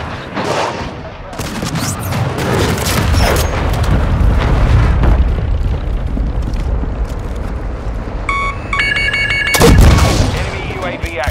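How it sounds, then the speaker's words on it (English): A cruise missile strike in Call of Duty Modern Warfare II on the Santa Sena invasion map: a dense barrage of loud explosive booms and gunfire, then a bright electronic alert tone and a final heavy blast, under intermittent game voices. "Hostiles launched a cruise missile."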